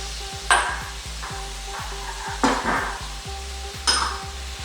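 Onions frying in a pan with browned meat, giving a soft steady sizzle broken by three sharp bursts of hissing and clattering as they are stirred, with a rhythmic mechanical ticking underneath.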